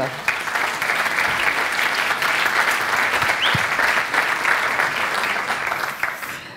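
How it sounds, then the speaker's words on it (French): At an organic products awards ceremony, the audience gives sustained, fairly loud applause as the general director of Naturalia joins the stage, a dense even roar of clapping that fades slightly at the end. "Merci de l'applaudir, il nous rejoint sur scène."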